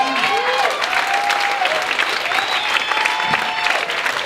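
A comedy club audience applauds steadily, with a few whistles and cheers rising above the clapping throughout.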